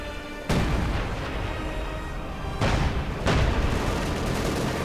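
Heavy blasts hit a Panzer IV in a World War II strategy game: a sudden loud boom, then sustained rumbling fire with a second and third explosive surge, dense and close, with no talk.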